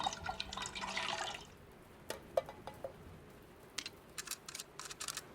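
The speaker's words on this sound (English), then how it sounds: "I can pour in the fuel now." Fuel pours into a generator in a video game: a short gurgling stream of liquid, followed by scattered faint drips.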